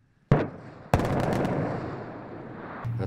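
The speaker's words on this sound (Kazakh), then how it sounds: "Бүгін жару жұмыстарын жүргіздік." Controlled blasting to clear a lake siphon channel: two sharp explosive blasts in quick succession, then a long rumbling, crackling roar as debris settles, heard from a distance with no talk.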